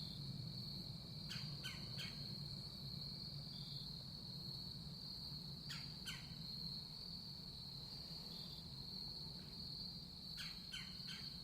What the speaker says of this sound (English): Crickets and birds.